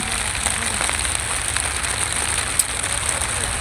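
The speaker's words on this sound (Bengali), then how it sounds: "এই যে অনেক বৃষ্টি পড়তেছে দুবলার চরে" Heavy rain falls steadily at Dublar Char on the Sundarbans coast, a dense unbroken hiss of drops drumming on surfaces, with an occasional sharper patter and no voices.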